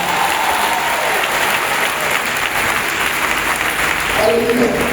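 A congregation at a French-language prayer service applauds without a break in acclaim of Jesus Christ. The clapping is loud and dense, with cheering voices mixed through it.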